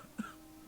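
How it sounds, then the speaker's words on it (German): A single short cough from a character in the role-playing game The Chronicles of Myrtana: Archolos, faint and brief over quiet ambient background. "die Leute husten nur herum"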